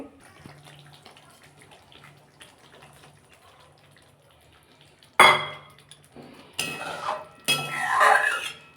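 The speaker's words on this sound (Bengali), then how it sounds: "আর একটু সামান্য জল দেবো" Water splashes into a pan of Bengali fish curry with spinach. Loud pouring bursts come in several spurts near the end, after a quiet stretch of soft kitchen clinks.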